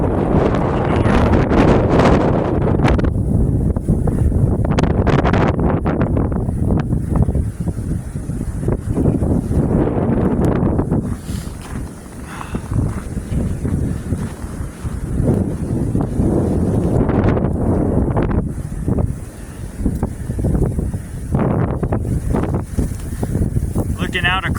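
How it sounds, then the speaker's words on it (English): Strong wind blowing hard during a Midwest snowstorm over open farmland, a loud continuous roar buffeting the microphone with gusty surges throughout, someone talking now and then beneath it. "It was blowing from the west, now it's blowing from the north."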